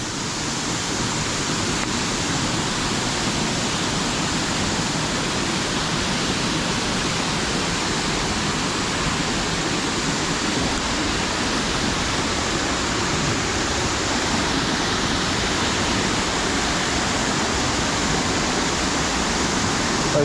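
A main waterfall drops below a road aqueduct, giving a dense, unbroken roar of falling water that stays loud and steady throughout with no voices.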